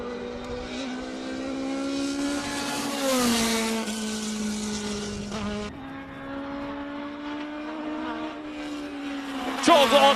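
A 1979 Mark 79A race car with slick tyres and a 2-litre four-cylinder engine at a hill climb, a high engine whine rising and dropping through gear changes as it works the chicane, moderately close.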